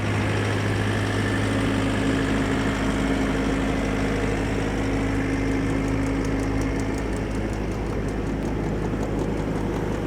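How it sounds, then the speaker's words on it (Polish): A Vögele Super 800-3i asphalt paver runs its scraper feeder, giving a steady low mechanical drone and engine hum with a faint rhythmic ticking throughout, loud and continuous with no talk. "No i oczywiście sam podajnik zgrzebłowy też tutaj pracuje jak najbardziej."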